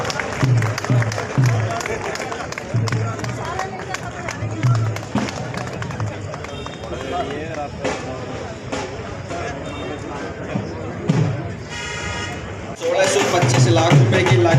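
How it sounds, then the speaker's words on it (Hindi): An audience applauds at the inauguration of a new municipal corporation building in Karnal, with sustained clapping and crowd murmur throughout, a speaker talking over it on a loudspeaker, and the clapping swelling louder near the end. "आप सबसे अनुरोध है तालियां बजती रहें"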